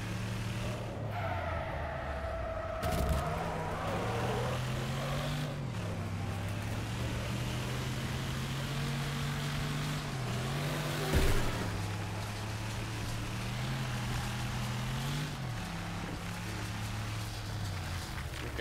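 Racing cars in the video game Wreckfest, a steady engine drone rising and falling with gear changes, tires skidding and squealing, and a couple of sharp crash impacts.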